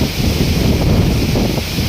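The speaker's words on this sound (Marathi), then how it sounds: "बघा बघा बघा हा नारळाच्या झाडांचा आवाज." Strong wind rushes through coconut palm trees at a seaside spot in Sindhudurg, a steady loud roar of rustling fronds and gusts with no pauses.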